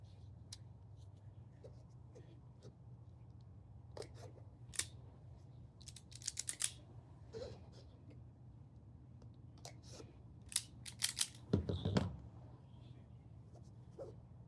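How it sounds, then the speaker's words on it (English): A wire stripper works on trimmed wires during a wiring repair on a Dainese Smart Jacket LS Sport motorcycle jacket, giving sharp close clicks and snips in small clusters over a quiet low hum, with a longer scraping crunch near the end. "with the wires trimmed, I'm going to strip them."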